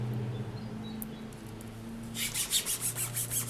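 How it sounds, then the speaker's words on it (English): Burnishing a polymer clay sheet, a quiet start followed by a run of rhythmic soft rubbing strokes, about eight quick passes, close and fairly faint, with no talking. "Now I'm just going to give this one a quick burnish as well."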